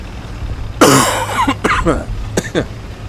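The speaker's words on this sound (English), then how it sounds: "these are just very heavy dry coughs" A man gives a run of heavy dry coughs up close, a loud harsh burst followed by several shorter hacking coughs, loud against a quiet room background.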